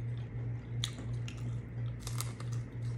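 Crisp bites into freshly fried fish and shrimp, a few sharp crunches followed by close, moist chewing over a steady low hum.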